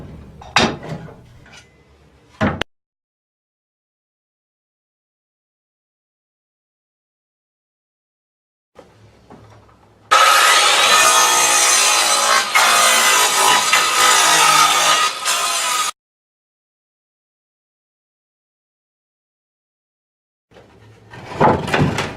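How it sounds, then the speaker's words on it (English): Pallet planks prised off with a welded bar-and-fork puller, a harsh creaking, scraping wood burst lasting several seconds, close and loud, with a few sharp knocks before and after and quiet gaps between. "The bar clamps make it very convenient, and so you can pull these planks off."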